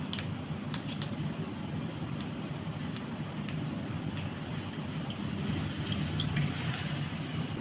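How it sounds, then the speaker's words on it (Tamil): Cooking oil pours into a frying pan (kadai) to make paruppu masala vadai, a steady, continuous, gurgling liquid stream at fairly even loudness throughout, with a few faint clinks and no talking. "இப்போ வந்து வடை சட்டியில் எண்ணெய் ஊற்றிக்கலாம்."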